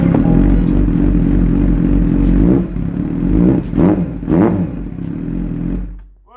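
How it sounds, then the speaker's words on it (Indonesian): A 2008 Suzuki GSX-R600 K8 600 cc sport motorcycle engine idling with a deep, loud, steady hum, then two quick throttle blips rising and falling, before the sound fades out. "Kelebihan dari GSX 600 seri ini, suaranya udah pasti berdengung."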